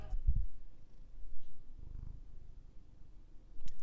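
A cat purrs close by in low, rumbling pulses that come and go in soft waves, faint and steady with no voices over it.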